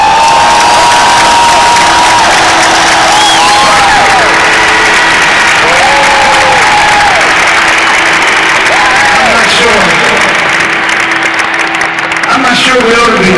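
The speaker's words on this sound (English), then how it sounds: "Sure, we ought to be applauding." Large stadium crowd at a concert in Cardiff's Millennium Stadium cheering and applauding in a dense, steady roar, with whistles and shouts rising above it for the whole stretch.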